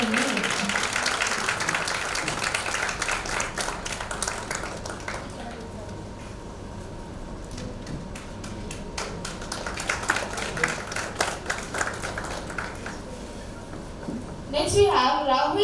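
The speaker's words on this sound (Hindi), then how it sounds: "यार जरा तालियां बजती रहनी चाहिए." Applause from a school event audience as students from Indian public schools are announced, a dense steady clatter of many hands that rises and falls, with a voice speaking over it near the end.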